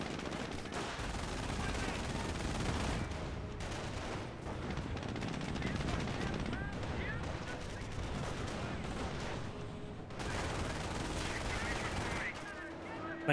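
Gunfire volleys in the Company of Heroes video game, dense overlapping rifle and machine-gun bursts crackling continuously through a busy battle soundscape, with faint commentary now and then.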